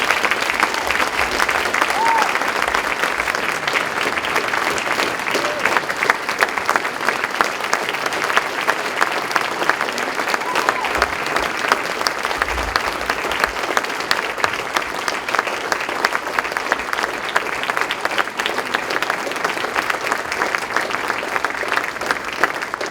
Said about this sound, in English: let's give a big round of applause for Alice and Jerry